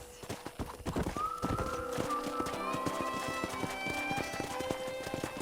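Quick clip-clop of horse hooves trotting close by in Red Dead Redemption, with a horse whinnying partway through over a busy rhythmic patter.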